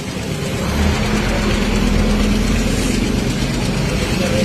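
Rusi Turbo motorcycle engine running steadily nearby, a loud continuous idle rumble with a slight rise in revs, filling the whole stretch with no voices.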